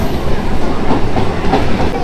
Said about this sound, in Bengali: ট্রেনও এসে গেছে